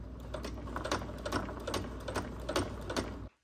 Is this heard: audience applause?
no